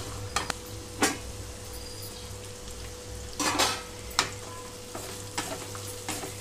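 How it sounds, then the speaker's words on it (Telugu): Cut okra pieces fry over a low flame in a pan, a steady sizzle broken by several bursts of scraping and stirring, with a quiet hum running underneath. "ఇక్కడ లో ఫ్లేమ్లోకి టర్న్ చేసి ఫ్రై చేస్తున్నానండి."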